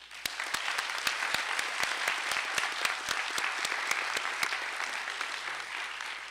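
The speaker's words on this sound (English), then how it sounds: "Please join me in a round of applause to thank these students for their leadership and service." Graduation audience at the MEDEX Anchorage Class 16 ceremony claps steadily to thank students, a thick even wash of applause with sharp individual claps standing out nearby, holding at constant moderate loudness.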